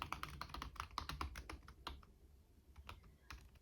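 Quiet, rapid computer keyboard typing, a close run of crisp clicks that pauses briefly and then resumes with sparser keystrokes.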